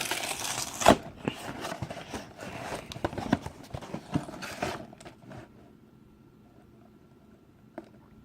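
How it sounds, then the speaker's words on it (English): A Mega Construx toy box is ripped open in rough bursts of tearing cardboard and crinkling packaging for about five seconds, then the noise drops to faint handling. "Let's go ahead and rip the box open."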